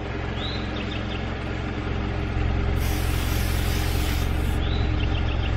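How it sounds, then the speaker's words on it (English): A Slime portable tire inflator screwed onto a tire valve runs with a loud continuous mechanical drone and buzz, steady throughout, with a brief hiss of air partway through. "you don't have to hold it on the tire while it's inflating it"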